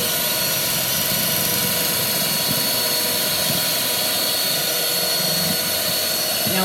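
A Hamilton Beach 62648 hand mixer whips marshmallow fluff on high boost, giving a continuous loud, high-pitched motor whine close by with an even, unbroken tone.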